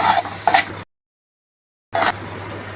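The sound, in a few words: stirring and sautéing onion poha in a pan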